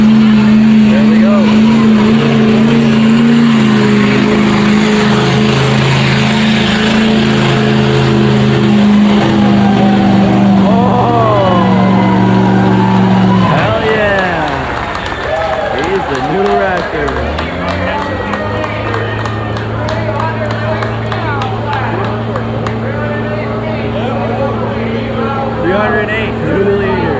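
A truck engine roars and revs loudly during a truck pull at the Chemung County Fair, a sustained heavy drone that shifts pitch midway, with crowd noise and people talking nearby.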